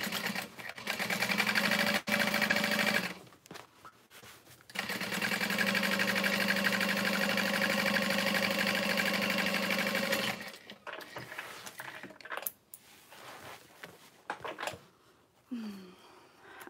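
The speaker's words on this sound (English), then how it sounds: "And then we'll sew on our strap connectors and add my nameplate." A sewing machine stitches strap connectors onto a tote bag, running in two long steady whirring bursts separated by a short pause, then stopping for scattered handling noises.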